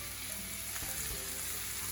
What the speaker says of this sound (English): I'm now gonna go ahead and add my hot peppers as well as my tomatoes to this frying pan